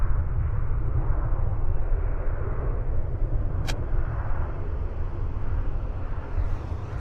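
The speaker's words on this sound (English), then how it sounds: "we've got a departure happening on the south side" An Airbus A321 taking off from Vancouver Airport makes a broad, steady jet roar, heard from a distance, that keeps going without a break, with one brief sharp click partway through.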